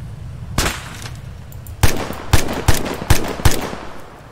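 Aircraft gun run in ArmA 3: one sharp burst, then a quick string of five loud cannon bursts fired in steady rhythm, each with a booming low-end punch over a quiet background.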